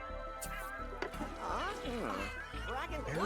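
A cat in The Sims 3 life-simulation game meows repeatedly in rising and falling calls, fairly close and clear, over a steady background game hum.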